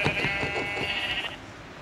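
Minecraft sheep bleating in the video game, a single wavering digital bleat with a rapid tremolo, loud and close, trailing off into quiet.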